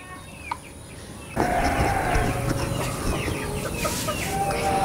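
Chickens cluck and chatter close by over steady background noise, with scattered bird calls.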